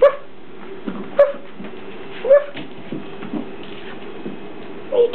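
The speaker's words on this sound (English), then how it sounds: "What's that little bark?" A few short, sharp yips from a small Shih Tzu, spaced irregularly over a quiet indoor background, close by.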